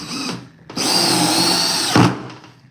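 A DeWalt or Ryobi power drill with hammering action spins up after a short burst, then runs loud and steady for over a second with a harsh whine before winding down.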